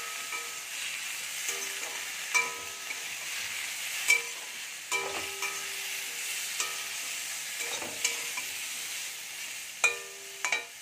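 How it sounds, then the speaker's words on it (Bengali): Spoon stirring 1 teaspoon of turmeric powder and 1 teaspoon of cumin powder in a bowl while making lau (bottle gourd) jhol, a soft continuous scraping with occasional louder clinks, close and steady, no voices. "মশলাগুলো আমি এখন দিয়ে হালকা করে নাড়াচাড়া করে জল দিয়ে দেব।"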